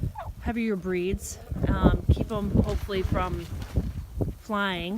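Icelandic chickens and other poultry including a Rhode Island Red rooster, nearby clucking and drawn-out harmonic calls, with someone talking over them.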